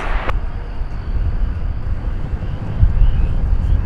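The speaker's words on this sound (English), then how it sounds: "flight 1033, Air Canada, coming in from Toronto. An Airbus A220-300" Steady, broadband roar of an Air Canada Airbus A220-300 landing at DFW Airport, heard from outside with wind buffeting; a sharp click near the start, and the rumble swells a little toward the end.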